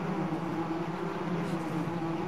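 Steady droning buzz of bees inside a bee cave in the ARK video game, continuous and fairly loud with no pauses, layered with a low hum.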